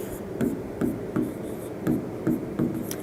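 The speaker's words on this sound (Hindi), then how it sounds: "तो चलिए लिख लेते हैं फटाफट" Pen scratching out numbers on paper during a maths lesson, a quiet series of short rhythmic strokes with brief pauses between them, close and soft, with no talking.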